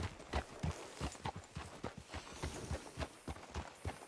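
Horse hooves clip-clopping at a steady walking pace in Red Dead Redemption 2, a regular run of close, distinct thuds lasting throughout with no talk over them.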